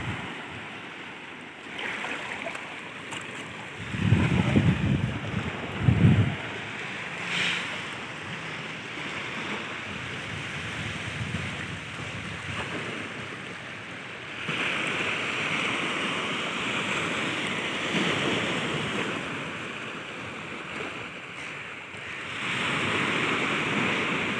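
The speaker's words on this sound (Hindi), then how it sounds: "वो समुद्र की पानियों की लहर की आवाज़ सुनने में और ही बहुत ही मज़ा आ रहा था" Sea waves wash onto a beach in Mumbai in a steady broadband roar, with heavier surges early on and a continuous rush of surf and wind, fairly loud and without talk.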